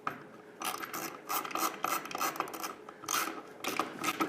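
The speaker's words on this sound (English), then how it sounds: "I'm putting my lag bolts in" Ratchet wrench driving lag bolts up into a garage ceiling while hanging a Harken hoist for a Jeep Wrangler hardtop, giving bursts of close, rapid clicking and grinding with short pauses between strokes.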